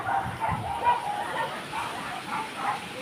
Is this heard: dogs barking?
yes